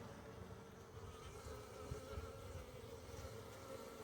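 Many bees buzz continuously around the hive in February, out on navigation flights, a dense, overlapping drone close to the listener.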